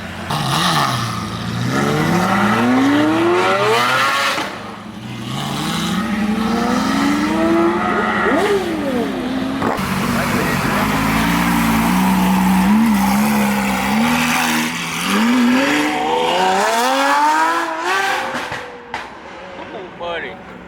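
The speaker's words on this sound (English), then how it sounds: "got the F12 heading out first, the Aventador SVJ second." Ferrari F12 and Lamborghini Aventador SVJ supercars accelerating away one after another, loud rising engine revs sweeping up in pitch over crowd noise, with voices audible.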